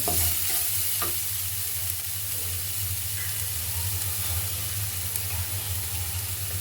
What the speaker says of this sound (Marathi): तो आपण चांगला परतून घ्यायचा आहे